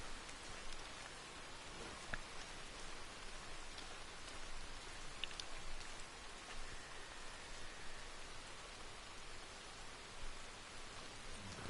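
Steady, soft rainfall in the video game Red Dead Redemption 2 Online, with a dense hiss of drops, continuous and even throughout with no voices.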